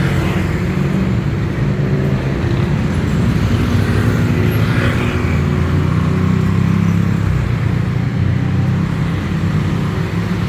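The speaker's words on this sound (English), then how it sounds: "It turns into quite the traffic jam." Busy Bangkok road traffic with cars, trucks and motorbikes in a jam, a loud continuous rumble of engines and tyres with a passing swell midway, no voices.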